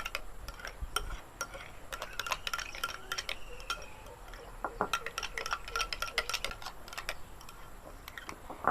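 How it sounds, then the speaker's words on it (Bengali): Homemade night cream mixture stirred in a bowl, giving a run of quick irregular clicks and scrapes from the utensil against the bowl, close and fairly soft with no voice over it. "এভাবে খুব ভালো করে মিশিয়ে নিতে হবে।"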